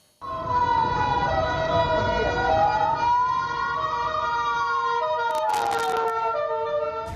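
A wailing Polish ambulance siren sweeps up and down in pitch, loud and close, with a brief burst of harsh noise near the end.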